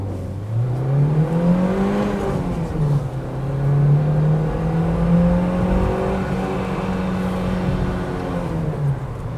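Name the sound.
Renault Duster car accelerating in city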